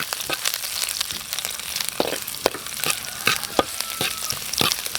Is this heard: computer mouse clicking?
no